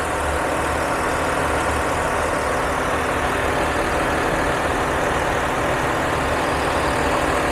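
The diesel engine of a 2024 Ford Ranger Wildtrak runs at a steady idle, a loud, continuous rumbling drone with no change in pitch and no one talking.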